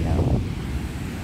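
Wind buffets the microphone on a beach while sea waves wash in the background, a steady rushing roar over a short stretch.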